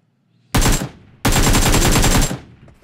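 Automatic gunfire in the BGMI battle royale game: two loud, rapid bursts, a short one followed by a longer sustained volley of about a second, close and clean with no talking over them.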